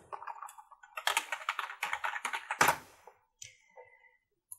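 Fingers type a password on a computer keyboard, a close run of quick clicking keystrokes ending in a harder key press, then a few scattered faint clicks.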